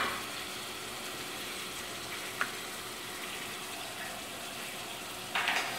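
Rice and shrimp for a shrimp risotto sauté in a pan with a steady, soft sizzle and hiss throughout, fairly quiet and continuous, with a brief clink midway and a small scrape near the end.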